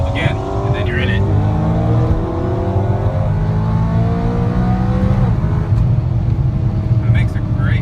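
A supercharged BMW M3 engine revs under load while driving, pulling through rising gear sweeps with a loud, close roar that drops briefly between shifts as people talk over it.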